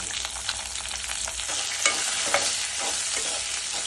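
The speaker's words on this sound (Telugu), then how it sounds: "ఒక 5-6 ఎండుమిర్చి వేసుకుంటున్నాను." Oil sizzles and crackles steadily up close as dried chillies fry, with a few soft stirring scrapes against the pan.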